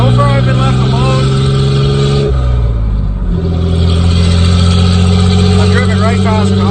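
Loud exhaust of a modified Nissan turned into a tractor-style vehicle, a deep droning engine note that holds steady, dips briefly in pitch, then resumes, close and constant with no talk.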